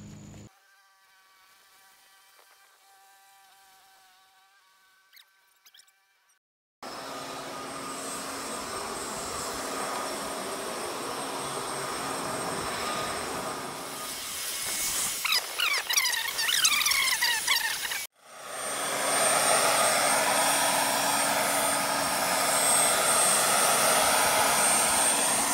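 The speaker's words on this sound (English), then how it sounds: "Using the blower just to blow the grass from cement and from the street." A leaf blower clears cut grass off cement and the street during weekend lawn care. After a quiet start, a loud, steady, roaring blast begins, cuts out briefly and then resumes at full strength close by.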